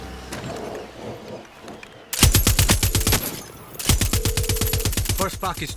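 Far Cry 6 gunfire: rapid automatic bursts of loud shots in quick rhythmic volleys, separated by short gaps, over faint game background noise.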